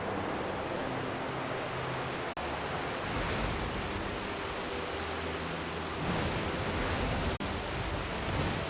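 Rushing waterfall in the video game Pokémon Violet, a steady, dense roar of falling water that holds even and loud throughout, with no talking.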